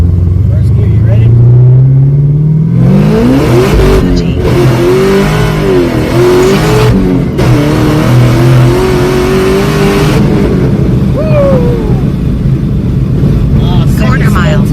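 A 1000-horsepower Camaro ZL1 pulls hard in first gear, heard loud from inside the cabin. The engine note climbs steeply in pitch, then drops and rises again through several quick shifts, with a continuous roar throughout.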